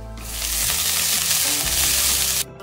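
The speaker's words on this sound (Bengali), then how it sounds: "এবার আমরা মশলাটাকে একটু ভালোভাবে ভেজে নেব" Whole cumin and spices fry with freshly cut cabbage in a hot pan for a paneer kathi roll filling, giving a loud, steady, close sizzle that drops off sharply near the end.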